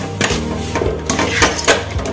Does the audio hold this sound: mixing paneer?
yes